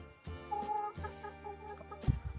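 Hens in a mountain farmyard cluck close by, a few short throaty calls in quick succession with a brief louder squawk near the end, heard alone without talk.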